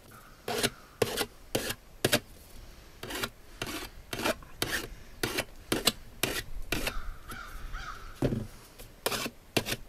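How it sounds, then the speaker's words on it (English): A hand file rasps around the cut edge of a metal stove pipe to clear burrs, a close run of sharp scraping strokes in an uneven rhythm, with no talking. "it takes just a couple of seconds here to run around that with a file"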